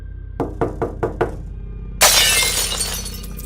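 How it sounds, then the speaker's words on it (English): Five sharp knocks strike a pane of glass in quick succession, then a kitchen window bursts into a loud, bright shatter that rings on and settles over the next second or so, during a thunderstorm. "There was this quick and sudden loud bang on the glass, followed by a window in the kitchen completely shattering."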